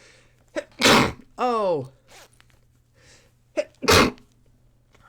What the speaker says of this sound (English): I'm going to sneeze, by the way.